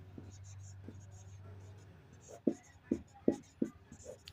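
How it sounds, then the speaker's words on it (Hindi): Pen or pencil scratching on paper while a maths question is written out, a run of soft strokes ending in several sharper taps, fairly close and quiet, with a low steady hum during the first half. "प्रश्न शेष लिखते हैं।"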